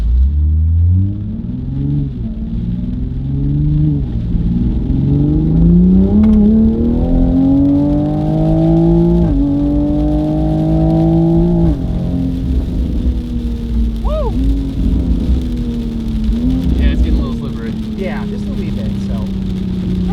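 A Toyota Supra engine accelerates repeatedly on wet pavement during traction testing, its loud rising drone climbing in pitch through several gear pulls, with tire and road noise beneath and occasional talk over it.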